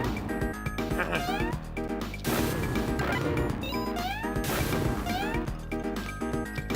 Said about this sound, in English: When he jumps, he sounds like a cat.